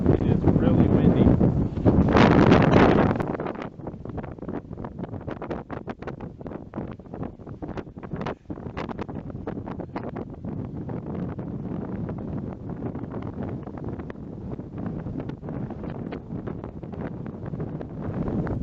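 Strong wind on Longs Peak buffets the microphone in loud, rumbling gusts, heaviest at the start, then a steady roaring rush continues throughout.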